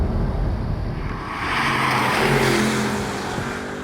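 An Audi R8's mid-mounted V8 revs, a deep engine note that swells and rises in pitch over a few seconds before easing off, fairly loud and close.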